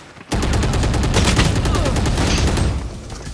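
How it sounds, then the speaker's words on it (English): A Vandal rifle in a Valorant-style shooter fires a rapid, loud burst of about three shots that run together, with echoing gunfire holding steady for a few seconds before it tails off. "accidentally shot three times"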